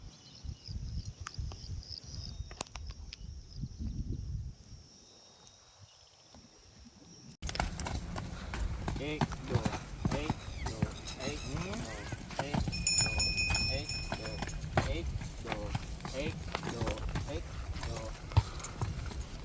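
A mare's hooves clip-clop in a steady rhythm, close by on a stud farm, after a quieter opening, with people talking over the steps.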